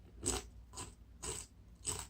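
Crunchy chewing made as animation foley, four loud, close crackling bites spaced evenly about half a second apart, each a short burst of crisp crunching with no talk.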